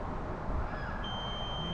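A thin high-pitched electronic beep tone from a drone controller sounds steadily over a rough, noisy background rumble.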